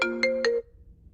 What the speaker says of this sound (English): I'm sorry, my phone rang again.